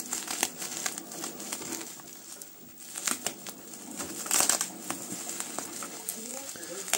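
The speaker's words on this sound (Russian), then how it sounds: "Так, скотч, открывайся." Packing tape is peeled and torn off a box of VHS cassettes, giving close, irregular crinkling and ripping bursts with one louder tear midway.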